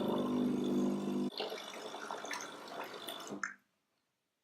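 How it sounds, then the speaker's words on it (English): A Miele CM6110 coffee machine rinsing water through itself, with a steady pumping hum followed by splashing and trickling water that tapers into drips and then silence. "press OK. And this will then rinse the appliance through."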